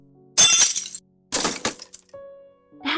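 A child slams into a table and chairs, giving two sharp, loud crashes of clattering furniture with rattling, brittle impacts and a short settling after each.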